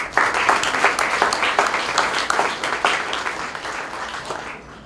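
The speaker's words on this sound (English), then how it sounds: "So I'd like to definitely give them a round of applause" A seated audience gives a warm round of applause at a talk honoring surgical team members, many hands clapping densely and evenly before thinning out at the very end.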